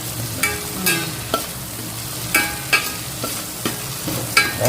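Curry leaves frying in a hot tempering for Telugu gongura curry, a steady sizzle broken by sharp scraping stirs and clinks at irregular intervals, close and fairly loud, with no voices.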